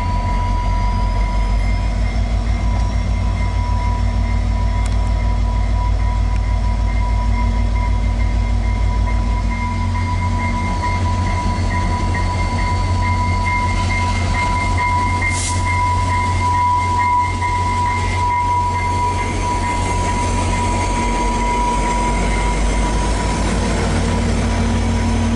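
VIA Rail passenger train 88, hauled by locomotive 6411, departs with a loud, steady rumble and rolling wheel noise held for the whole stretch. Faint higher tones ride over the low roar.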